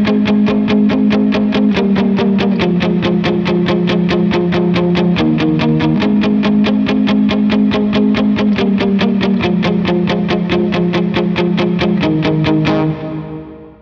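Driven electric guitar through a Helix or POD Go playing a worship song verse with steady, fast palm-muted chugging under shifting chords, loud and continuous before cutting off at the end.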